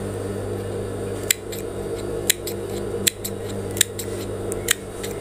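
Scissors cut through fabric for a sailor collar, giving five crisp, close snips spaced roughly a second apart over a steady low background hum.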